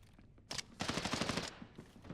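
AEK rifle fire in Arena Breakout Infinite, a short shot followed by a rapid burst of about ten sharp, close cracks, then a few trailing echoes.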